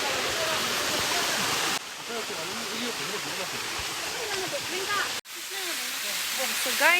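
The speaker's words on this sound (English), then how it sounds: "this is the waterfall that we came to see" A village waterfall gives off a steady hissing rush that fills the whole clip, with people talking close by over the constant roar of falling water.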